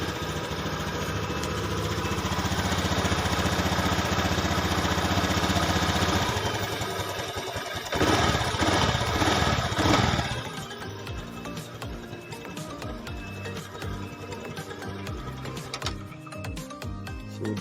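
A Honda Scoopy ESP fuel-injected scooter, five years without a service, whirs at a steady idle, then gets a louder, rougher burst of engine noise as it is started, before settling back into an even, close idle.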